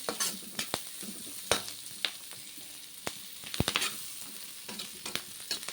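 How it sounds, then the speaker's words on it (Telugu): Egg noodles sizzle and crackle in a pan over a high flame, with frequent sharp clicks and scrapes of stirring against the pan, close and busy throughout. "చూడండి ఎట్లా కుక్ అవుతున్నాయో, ఇట్లా మంచిగా వేయించేసుకోవాలి"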